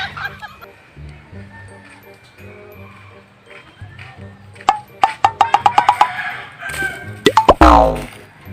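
Fighting cocks clash in a cockpit, with a run of sharp, rapid wingbeats and squawks building in the second half over a steady murmur of people talking, ending in a loud flurry.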